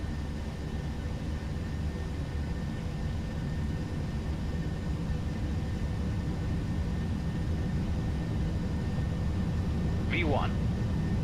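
Boeing 737-800 jet engines at takeoff power during the takeoff roll of a Ryanair flight, heard as a continuous dense roar from inside the aircraft, with voices faintly present beneath it.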